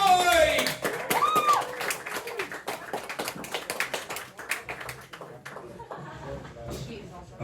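Open mic crowd in a bar claps for a comedian stepping up, a run of distinct close claps alongside talking that slowly tapers off.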